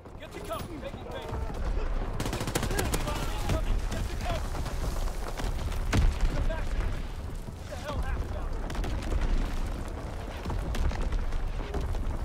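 Dense, continuous battlefield din from Call of Duty Vanguard, with incoming enemy artillery explosions and gunfire rolling into one loud wall of sound. A sharp thud stands out near the middle, and game voice lines come through beneath.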